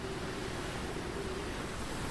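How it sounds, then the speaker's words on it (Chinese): Gentle ocean waves wash on a moonlit shore in the game Wuthering Waves, a soft, steady surf hiss with no distinct breaks, faint and continuous. "在黑海岸的海边，在月光下，聆听海浪的声音"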